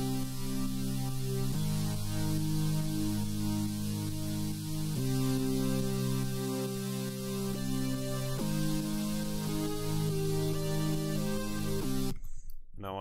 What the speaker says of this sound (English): the next sound is a